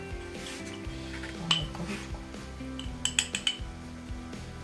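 Minced meat tipped into a bowl in a home kitchen, with a series of light clinks and taps of a utensil against the dish, quiet and close, no talking.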